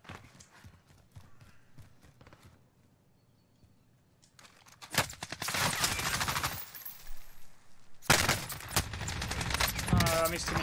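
Bursts of rapid gunfire in a Call of Duty: Warzone match, two loud dense volleys in the second half after quieter clicks and footstep-like sounds, with a player's voice talking at times.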